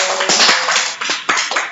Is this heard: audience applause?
yes